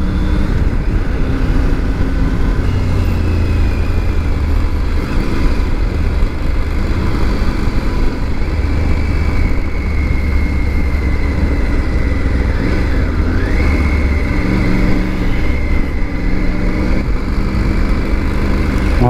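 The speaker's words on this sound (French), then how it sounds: "c'est sur cette moto qu'il y en a beaucoup qui disaient que le bruit était plus celui d'un bicylindre que d'un 3 cylindres" Triumph Tiger 900 GT three-cylinder motorcycle engine running, a loud, steady close-up drone with a low rumble and shifting harmonics, riding in mild weather around ten degrees.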